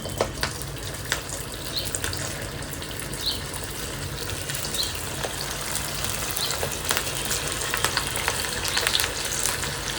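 Vadas fry in hot oil with a continuous crackling sizzle that holds steady for the whole stretch, close by, with occasional light clicks and faint kitchen clatter and no voices.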